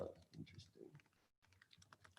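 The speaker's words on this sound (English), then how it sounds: "Am I clicking this the right way?" Small, rapid plastic clicks from a presentation clicker or computer mouse at a student government meeting. The clicks are quiet and close, with faint voices in the room.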